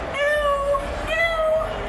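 Two drawn-out meows played on a voice-based instrument in the video game Dreams, the instrument sampled from a human voice imitating a cat. The pair of meows sounds close and clear, one after the other.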